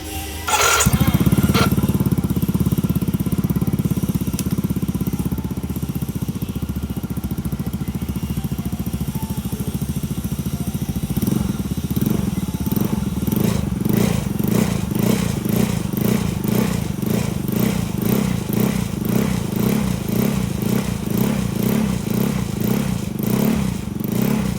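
A Yamaha Mio Soul i 115 scooter engine, repaired after misfiring at high RPM, starts and runs close by with a steady putter, then settles into a rapid, regular pulsing beat as it revs for the rest of the run.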